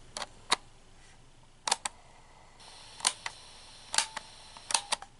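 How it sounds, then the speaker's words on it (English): Buttons on a Jensen cassette player with FM and AM radio click sharply, about a dozen crisp plastic clicks in small clusters, close and fairly quiet against a faint room hiss, with no talking. "the buttons, they click really nice"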